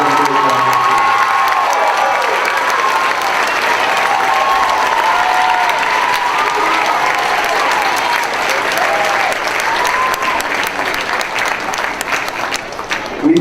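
Loud, sustained applause for fifth grade teachers at a school graduation farewell, dense clapping mixed with cheering and children's shouts throughout.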